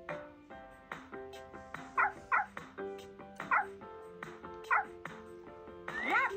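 Small yapping barks and yips from a puppy in a video game repeat in quick bursts over a bouncy synthesized game melody, the puppy sounds fairly close and bright.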